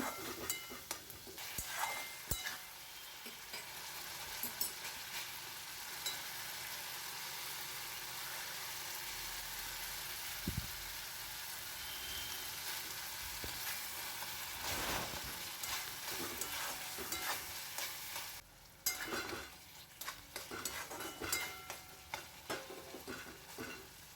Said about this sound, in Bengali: এবার একটু জল দিয়ে একটু কষে নেব